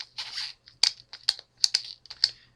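Plastic clicking from the twisty waist of a Barbie and the Rockers doll being turned side to side, a run of sharp close ratchety clicks in uneven bursts, with no talking.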